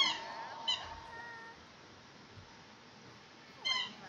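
A cat in The Sims 4 gives a few faint, drawn-out meows over quiet game background, with one at the start, one shortly after, and another near the end.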